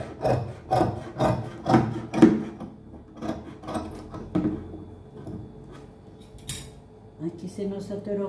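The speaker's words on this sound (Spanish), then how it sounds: "Vamos a cortar como si fuéramos curveadito, no tan recto, sino de esta manera" Fabric being cut in a curve with scissors while making a Christmas hat cover for a dining chair, heard as a run of close snipping and rubbing strokes that fade out, followed by a brief voice.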